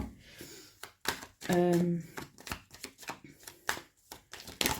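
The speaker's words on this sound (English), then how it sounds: "I prefer to shuffle with you guys" Tarot cards are shuffled in quick riffling bursts and soft slaps, close by, repeating in an uneven rhythm with a brief voice partway through.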